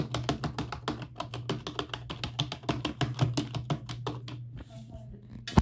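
Rapid, steady typing on a computer keyboard, close and clear, with quick key taps running in an even stream before stopping near the end.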